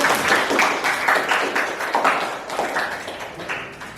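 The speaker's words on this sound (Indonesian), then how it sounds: "tepuk tangan untuk Rifki" Classroom of students applauding a classmate, loud and close, with distinct individual claps in an uneven rhythm throughout.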